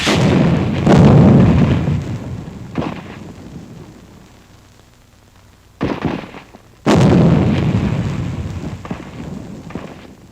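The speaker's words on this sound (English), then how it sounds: "Point-blank rifle fire wipes out remaining enemy pockets." Heavy blasts of point-blank rifle fire in WWII combat against remaining enemy pockets: a loud burst with a long rumbling decay, then a quieter stretch, then two more sharp booming reports that echo and fade.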